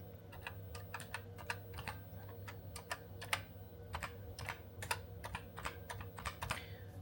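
Fingers type on a BBC Micro keyboard, a quick irregular run of crisp, close key clacks with brief pauses, fairly quiet against a low steady hum.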